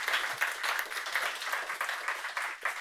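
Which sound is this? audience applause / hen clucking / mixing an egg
audience applause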